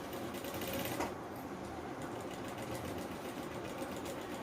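Sewing machine stitching a round neckline on a simple frock, running as a steady continuous motor whir for the whole stretch with a brief louder surge near the start.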